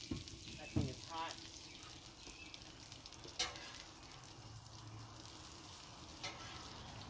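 Bacon sizzling and frying on a hot griddle grill outdoors, a steady quiet crackle of grease with occasional clanks and scrapes, persisting under a man's speech.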